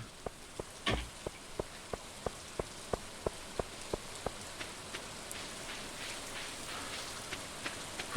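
Soft rain hiss in the farming game Stardew Valley, with a regular series of light, crisp ticks evenly spaced over a faint background patter.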